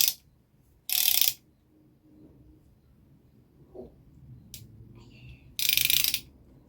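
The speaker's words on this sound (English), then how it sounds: "Ratchet feels very sturdy." A budget torque wrench's ratchet clicking in short, loud bursts close to the listener, separated by quiet pauses and faint handling noise.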